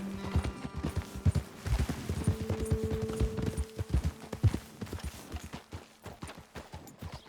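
Horses' hooves clip-clopping in Red Dead Redemption 2 as riders move along a trail, an irregular series of close, moderately soft hoof thuds, some overlapping, with a brief whinny-like tone early on.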